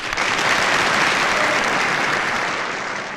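A festive evening crowd claps steadily and loudly in dense, continuous applause for members of a charitable association, fading a little toward the end, with no voices over it.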